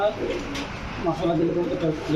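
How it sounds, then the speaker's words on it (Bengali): A local racer pigeon coos close by, with a low, throaty, rolling call that repeats through the short stretch. "এটা হলো একটা মানে লোকাল রেসার কবুতর"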